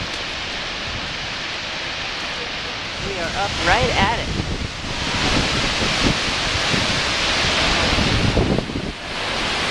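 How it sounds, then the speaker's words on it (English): Skogafoss waterfall in Iceland roars as a constant, loud broadband rush of falling water, mixed with wind buffeting the microphone, while a person speaks briefly over it. "Skogar waterfall."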